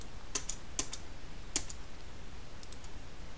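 Computer keyboard keys click during AutoCAD drafting work: a few sharp, separate taps spaced irregularly, close and clear, with no voices.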